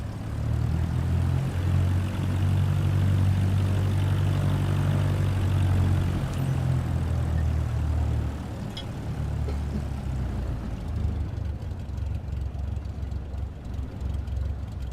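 A propeller aircraft in Microsoft Flight Simulator 2024 roars under full takeoff power, a loud steady engine drone with strong low hum that eases slightly partway through and continues without talk.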